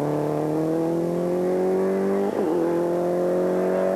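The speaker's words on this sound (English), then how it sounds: "The Escort powering away very effectively on those well-known features" A Ford Escort rally car powers away at the Boucles de Spa rally in 1995, its engine droning loud and steady at high revs, with a brief gear-change dip midway before it pulls on.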